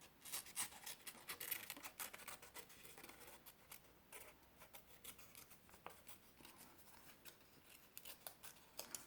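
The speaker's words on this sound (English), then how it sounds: "cut it out from our yellow construction paper here" Scissors snip through yellow construction paper to cut out a small square, a steady run of crisp, close cutting clicks and paper rustle with no talking.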